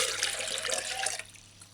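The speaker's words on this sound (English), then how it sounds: "Now, add 2 more cups of water" Water pours steadily into a blender for guava papaya juice, a close splashing stream that cuts off abruptly near the end, leaving quiet.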